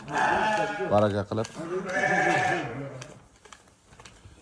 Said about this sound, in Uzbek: Qo'ylarimiz hammasi zo'r, azizlar kelishgan.